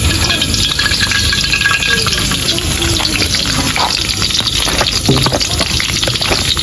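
Garlic frying in a hot pan, a steady close sizzle and crackle with occasional stirring scrapes and no talking.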